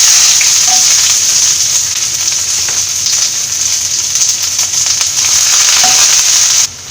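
Sliced onion and mustard seeds fry in hot coconut oil for a Kerala thoran, giving a loud, continuous close sizzle with faint stirring scrapes throughout, ending abruptly.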